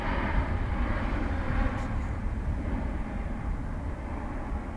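A Ryanair jet departs Dublin Airport for Stockholm, its engines a steady, faint, distant roar that fills the background without a break.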